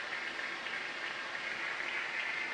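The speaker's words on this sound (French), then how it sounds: "On entend des applaudissements." A cinema audience applauds at the end of a film screening at an amateur film festival in Mamers, a steady, fairly faint wash of many hands clapping heard from a distance without talk.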